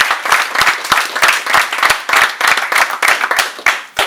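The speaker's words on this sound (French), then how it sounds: "Donc je pense qu'on peut les applaudir." Audience applause at an end-of-tour speech for an under-17 team, a dense, steady burst of hand claps from a crowd filling the whole stretch without voices.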